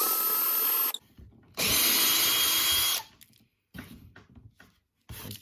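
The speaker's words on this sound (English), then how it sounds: "if you put a scrap bit of wood directly underneath the bit of wood and drill straight through" A power drill boring straight through a piece of wood into scrap wood beneath it, with two loud sustained whining runs separated by pauses, then softer handling knocks and short bursts.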